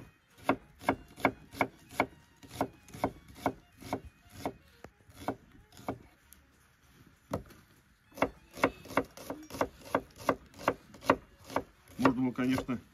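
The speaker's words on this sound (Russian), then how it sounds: "Лук полукольцами." A knife slices an onion into half rings on a wooden board, rapid rhythmic runs of crisp thuds with a short pause midway, close up and without talk.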